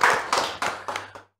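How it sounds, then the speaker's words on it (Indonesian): Short burst of hand clapping from a studio audience on an Indonesian Batak talk show, five distinct claps fading out over about a second, close and fairly loud. "Beri tepuk tangan dulu."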